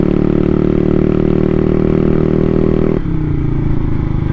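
A Honda Ruckus scooter engine revs loudly and steadily up close, then drops sharply at about three seconds to a lower, rougher idle burble, with no one speaking.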